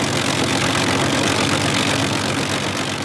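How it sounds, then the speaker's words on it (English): Four Rolls-Royce Merlin engines of a WWII heavy bomber drone in a dense, unbroken roar that holds steady and loud for the whole stretch, with no voices. "The sound of 4 Merlins"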